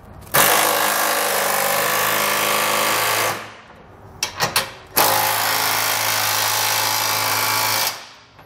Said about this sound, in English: we can come back and tighten down the 5/8 bolts that are attaching our side plates to the frame